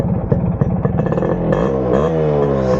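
A Yamaha RX100 two-stroke motorcycle engine fires up and idles with a rapid, loud popping beat close by, then rises into a smoother revving drone.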